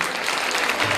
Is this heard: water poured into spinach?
no